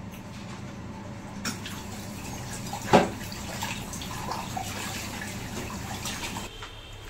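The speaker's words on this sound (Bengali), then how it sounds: "এখন সোজা চলে এসেছি কিচেনে বাসন মাজতে।" Dishes being washed under a running kitchen tap, a soft, steady flow of water with light clinks and one louder splash or knock partway through, fairly quiet and with no voices.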